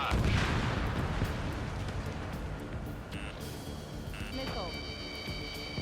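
A missile launches from a combat jet in Ace Combat 7, a loud broadband roar and rush that is strongest at the start, then eases into a steady whoosh while tonal cockpit beeps come in near the end.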